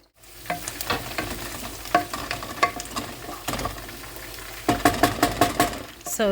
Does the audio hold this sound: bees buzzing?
no